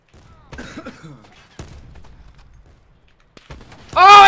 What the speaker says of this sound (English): Shot from behind, shot from behind.